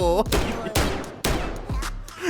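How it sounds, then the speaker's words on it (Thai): Loud bursts of gunfire ring out from twin machine guns in the Warzone video game, four close punchy volleys in quick succession, with a voice heard briefly at the start. "โอ้เอฟเฟกต์กระสุน"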